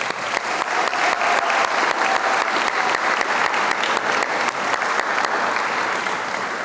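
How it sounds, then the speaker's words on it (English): An audience at a school district convocation applauds loudly and steadily, a dense wash of clapping that holds for several seconds before easing slightly. "So another round of applause."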